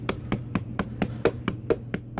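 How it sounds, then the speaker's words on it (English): Stiff-bristled brush smacked against lime-putty mortar joints during tuckpointing: about ten sharp, evenly spaced slaps in quick rhythm, close and fairly loud, with no talking. "Just smack it with this brush."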